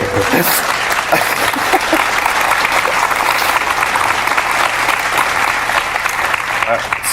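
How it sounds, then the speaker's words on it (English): A loud, dense wave of audience applause from a large crowd at a stage show, sustained and roaring without a break, with some cheering mixed into the clapping. "I don't think that deserves applause."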